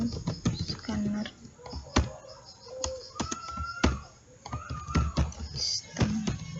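Keys clack on a computer keyboard as Java code is typed, irregular sharp taps in quick clusters, close and fairly loud, with some faint tonal sounds in the background.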